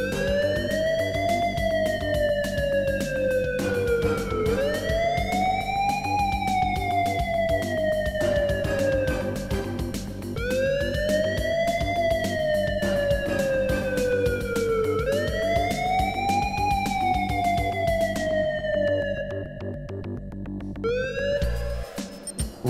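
A police car siren in the Police Quest 3 video game wails in repeated rising-and-falling sweeps roughly every five seconds, loud and steady over a low game music bed, fading out near the end.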